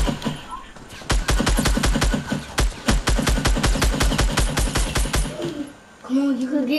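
Rapid bursts of automatic gunfire in the Fortnite video game, a dense run of sharp repeated shots lasting several seconds, with brief gaps and a voice speaking faintly near the end.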